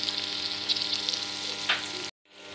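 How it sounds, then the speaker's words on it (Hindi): Onions fry in oil with ginger, garlic and green chili paste, a steady close sizzle with faint stirring scrapes, broken by a brief silence near the end. "प्याज को सुनहरा होने तक भूनेंगे, साथ ही इसमें हम तेज पत्ता डालेंगे।"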